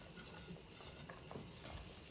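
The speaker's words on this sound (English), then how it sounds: "continue on stirring" Blueberry jam stirred in a pot at a rolling boil, with a steady bubbling, sizzling bed and soft scrapes of the spoon against the pot throughout, close and moderately loud, no talking.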